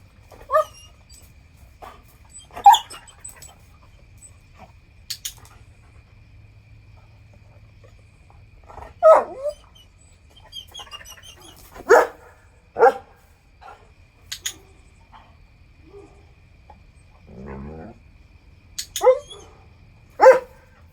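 A dog barks in short, sharp bursts scattered through the stretch, some single and some doubled, with quiet pauses between them over a low steady hum, fairly close by.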